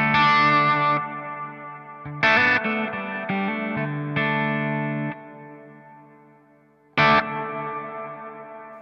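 Guitar chords ring through a Strymon Flint pedal's 80s reverb mode with long trails, several struck chords decaying slowly into a washy tail, one last stab near the end fading out.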